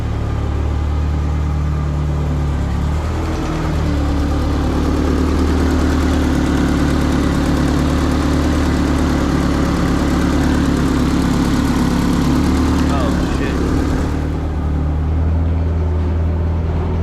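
A Nissan 240SX engine idles steadily after an exhaust leak repair, a constant low rumble that fills the whole stretch without any talk.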